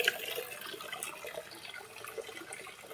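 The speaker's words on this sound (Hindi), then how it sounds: "तो मैं इनको पानी भर लेती हूँ।" Tap water runs steadily into a container being filled as drinking water for birds, a continuous close splashing rush lasting throughout with no talk.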